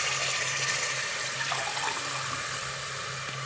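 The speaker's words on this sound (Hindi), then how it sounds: "तो अब हम डालेंगे इसके अंदर पानी।" Water gushes steadily into a cooking pot of soaked rice for chicken biryani, a continuous loud splashing pour lasting throughout with no speech over it.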